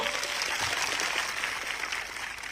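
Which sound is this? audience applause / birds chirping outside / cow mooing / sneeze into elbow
audience applause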